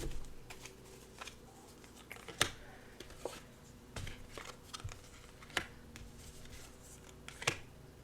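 Fallen playing cards are picked up and handled, producing soft shuffling rustles and a few sharp card snaps at irregular intervals, close and quiet with no talk over them.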